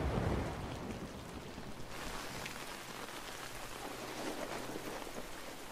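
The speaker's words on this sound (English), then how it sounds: "Fucking rain never ends." Heavy rain pours steadily in a dense, close hiss of drops striking surfaces, constant and without pauses, with no voices heard.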